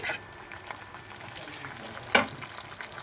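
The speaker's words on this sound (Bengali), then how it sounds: "মশলাটা তোমরা ততক্ষণ কষাবে যতক্ষণ না মশলা থেকে তেল বেরোচ্ছে।" A masala paste for a fish dish sizzles in oil in a kadai while being stirred, a soft continuous frying hiss with a sharp spatula scrape against the pan near the end.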